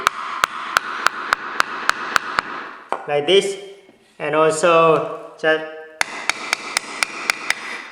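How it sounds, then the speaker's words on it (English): A hammer taps a chip down into a hole during a low-cost laser engraver build, giving a steady series of sharp, close metallic taps that pause while a person talks, then resume at an even rhythm. "I just going to use the hammer to tap it down a little bit"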